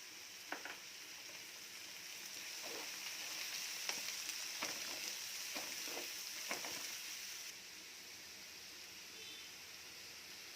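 Cut onions fry in oil in a pan for a spring onion egg curry, a soft, steady sizzle with several sharper crackles and pops in the first half before settling into a quieter hiss.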